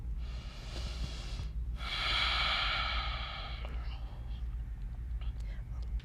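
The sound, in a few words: deep breathing in and out through the nose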